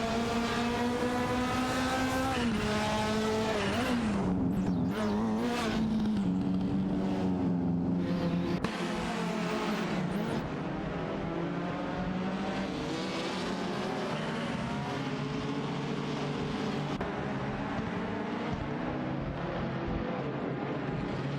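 Race cars duel in a video game, a BMW 2002 among them, with engines revving hard and shifting pitch continuously as the cars jostle for position, loud and close with no talk.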